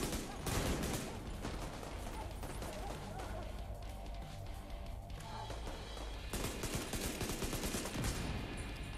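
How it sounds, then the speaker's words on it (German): Gunfire in The Division 2 as a locked door is shot open in a Washington mission, loud bursts of shots with crashing impacts filling the clip from start to finish. "Die Tür musst du aufschießen."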